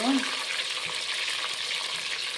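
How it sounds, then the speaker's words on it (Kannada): Onion, tomato, ginger and green chilli frying in hot oil, a continuous loud hiss of sizzling with little variation, close and steady. "ಎಣ್ಣೆ ಬಿಸಿಯಾದ ನಂತರ ನಾವು ಕಟ್ ಮಾಡಿರೋ ಈರುಳ್ಳಿ ಟೊಮೆಟೊ ಶುಂಠಿ ಹಸಿಮೆಣಸಿನಕಾಯಿನ ಹಾಕೋಣ ಇದು ಐದು ನಿಮಿಷ ಇದೆ ಫ್ರೈ ಮಾಡಬೇಕು"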